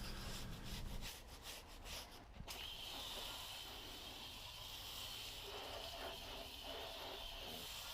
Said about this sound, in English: I just scrub it with a basic tire brush